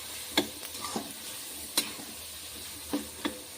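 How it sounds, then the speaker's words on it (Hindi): Salted tomatoes softening in a pan for a black chickpea curry are stirred slowly with a spoon. Soft sizzling runs steadily underneath a few sharp scrapes and taps, close and without talk. "टमाटर फिर से चला देते हैं, ऐसे धीरे धीरे करके बार बार चलाते रहेंगे"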